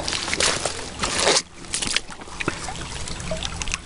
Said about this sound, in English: this is how the creek looks right now.